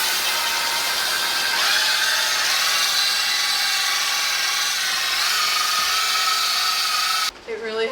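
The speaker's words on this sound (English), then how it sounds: "A great tip for washing your floors is getting one of these brush attachments for your drill." A power drill with a scrubbing brush attachment whirs steadily and loudly for several seconds, a continuous high buzzing grind against a hard floor, cutting off abruptly at the end.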